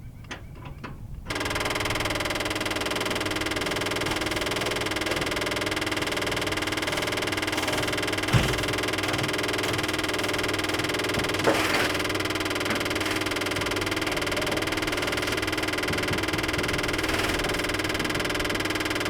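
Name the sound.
fuel pump cycling on 1957 Dodge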